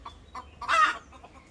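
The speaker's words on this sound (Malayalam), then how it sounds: "അവർ കോഴികൾ." Chickens in a Kerala backyard cluck in short bursts, with one louder, longer squawking call standing out near the middle before the clucks fade again.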